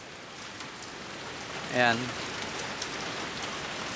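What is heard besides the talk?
rain falling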